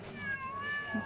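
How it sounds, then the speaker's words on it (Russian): A cat at a seaside café in Gümüşlük, Bodrum, gives a short, close meow, with faint background murmur around it. "Кот, скажи что-нибудь."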